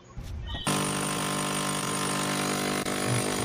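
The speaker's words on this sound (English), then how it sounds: "We're using a Bosch hammer drill with a diamond core bit." A Bosch hammer drill with a diamond core bit, boring into a concrete block, kicks on after a brief pause and runs loud and steady, grinding and rattling close by without stopping.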